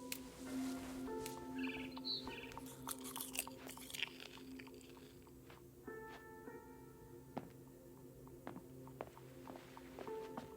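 Eating and crunchy chewing in the video game What Remains of Edith Finch, a character biting and munching in quiet bursts, with soft tonal game ambience and faint chirping behind.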